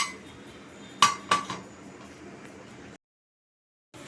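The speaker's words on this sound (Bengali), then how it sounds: "দিয়ে এবার আমি ঢাকাটা দিয়ে দেবো" A metal lid is set onto a pot of boiling rice, giving two sharp clinks close by, followed by faint kitchen background and then silence.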